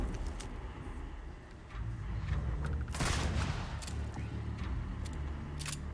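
Automated turrets open fire during a Starfield firefight, loud bursts of gunfire crackling over a dense, noisy combat background, with the heaviest volley near the middle.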